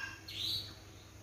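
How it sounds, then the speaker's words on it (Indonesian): A single bird calls outdoors at dawn with one brief, high, bright chirp over a low, steady background hum. "Ini kalau ada suara-suara kayak hewan, burung-burung gitu, jadi mohon maaf ya."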